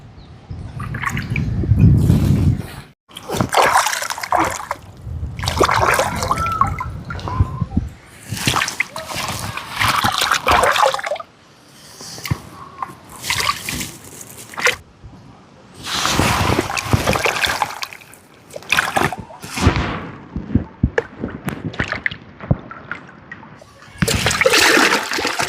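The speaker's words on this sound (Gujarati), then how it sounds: "પહેલાં આપણે આ શાક જે લાવ્યા છીએ ને શાકભાજી, ટમેટા છે, મેગીનો સામાન, એને આપણે અહીંથી સારા પહેલાં ધોઈ નાખશું" Vegetables and tomatoes washed by hand in lake water, with repeated close splashes and sloshing in irregular bursts separated by short quiet gaps; voices occasionally underneath.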